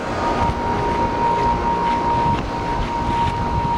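A train rumbling past outdoors near heat pumps, with a broad, steady roar, wind buffeting the microphone and a thin tonal whine held throughout, loud and unbroken with no talking.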